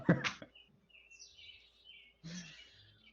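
Birds chirp in a quiet space: a few short bright tweets, then thin whistling calls that rise and fall, and a final burst of chatter, all fairly faint.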